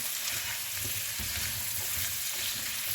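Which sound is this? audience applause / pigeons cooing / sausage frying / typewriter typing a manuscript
sausage frying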